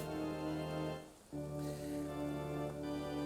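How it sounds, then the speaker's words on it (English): Rain and wind in a Pokemon video game make a steady hiss mixed with sustained tonal game music, briefly dipping before swelling back. "The wind and rain are a constant burden"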